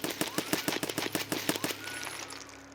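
Rapid gunfire from a weapon in Escape from Tarkov during a recoil test, a burst of about a dozen sharp, evenly spaced shots fired close and loud, ending with a brief fading tail.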